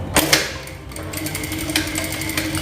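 Home sewing machine stitching a cotton face mask along its curved seam, a steady mechanical whirr with a sharp tap near the start, busy and close throughout, no talking.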